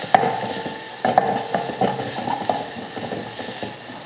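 Red chilli, curry leaves and turmeric lightly sautéing in a pan for rasam, a soft sizzle with repeated scraping and stirring clicks from a spoon, close and alone.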